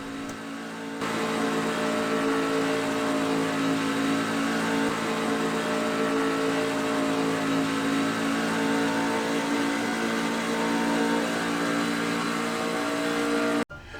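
A race truck engine in the iRacing simulator drones at high revs, a steady, loud in-game engine note held almost unchanged for the whole stretch before cutting off abruptly near the end.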